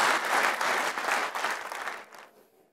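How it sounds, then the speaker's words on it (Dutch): A crowd applauds four student debate candidates at Tilburg University, dense clapping strong at first, then thinning and fading out toward the end, with no talking. "Mag daar eens een applaus voor deze vier"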